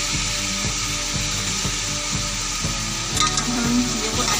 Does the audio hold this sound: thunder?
no